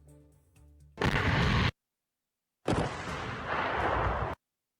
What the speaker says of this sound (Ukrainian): знешкодили шляхом накладного заряду вибухівки